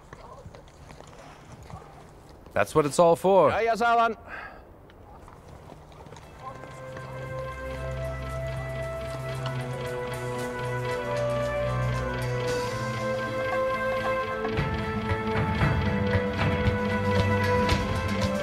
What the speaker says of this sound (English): the horses and sheep are driven like this from the high pastures to their winter quarters